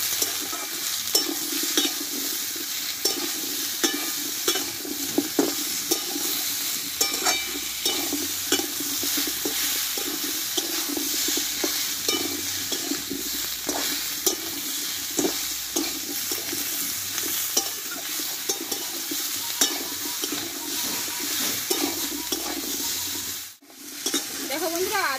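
Tomato, slit green chilies and crushed ginger stir-fried together in a pan for a pumpkin dish, a constant dense sizzle with frequent close scraping strokes of the spatula throughout.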